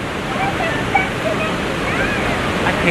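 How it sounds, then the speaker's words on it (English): The Lower Falls at Johnston Canyon in Banff pour with a constant, loud, full-bodied rush, heard close, with faint voices mixed in. "Okay, there's the Lower Waterfalls."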